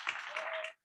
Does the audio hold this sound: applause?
yes